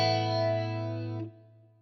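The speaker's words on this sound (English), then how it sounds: "I think I had it set up as like a reverse feedback flanger or something." Electric guitar through an Eventide Rose set as a reverse feedback flanger rings out as a dense, sustained chord with swirling metallic overtones, then the upper sheen drops away, leaving a low hum fading under it.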